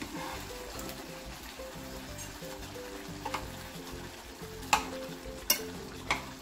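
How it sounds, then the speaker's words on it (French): Egg-stuffed meatballs simmer in a thickened sauce in a pan, giving a steady low bubbling sizzle with a few sharp clinks of a utensil against the pan near the end. "Vous voyez là, mes boulettes sont en train de cuire."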